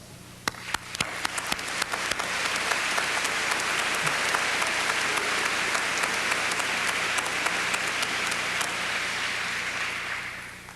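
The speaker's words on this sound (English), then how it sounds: "They deserve your applause." Audience at the 1997 Hamilton College commencement breaks into applause, starting with a few scattered claps that swell within a second into a broad, sustained ovation from a large crowd, then taper off at the end.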